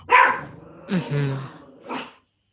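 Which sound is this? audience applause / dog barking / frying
dog barking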